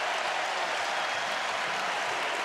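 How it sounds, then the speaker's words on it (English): A basketball arena crowd roars and applauds after a three-point attempt in a college game between Iowa State and TCU, a dense, loud, unbroken wash of cheering with no clear voices standing out. "Not often do you see a crowd react that vociferously for a three-point attempt to put your team up by 28 points."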